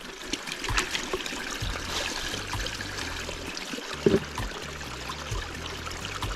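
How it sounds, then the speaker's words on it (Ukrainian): Water trickles and pours into a container holding meat, with a soft splashing flow, with faint clinks and bumps nearby. "Набираю трохи води."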